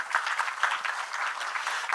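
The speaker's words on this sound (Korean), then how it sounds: "다시 한번 우리 정무 스님께 큰 박수를 부탁드리겠습니다" Brief, fairly faint applause from an audience at a temple-food symposium thanking the Buddhist monk keynote speaker Jeongmu, a soft patter of many hands.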